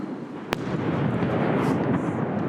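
A missile explosion in Ukraine gives one sharp, loud crack followed by a sustained, heavy rumbling roar that stays steady to the end, with no voices over it.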